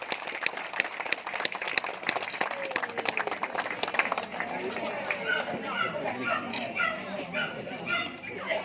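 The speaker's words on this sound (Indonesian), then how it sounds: "Beri tepuk tangan yang meriah." Crowd applause at an outdoor political declaration for regent and deputy regent candidates in Barito Timur, a dense patter of clapping mixed with chatter and a dog barking nearby.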